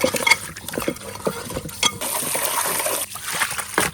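Cut Sarputi fish being washed by hand in water with salt, irregular sloshing, splashing and squelching rubs, close and fairly loud, in uneven bursts.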